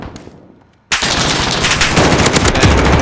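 Gunfire in a first-person shooter video game match, a sudden loud burst of rapid automatic shots after a near-silent moment, continuing densely to the end.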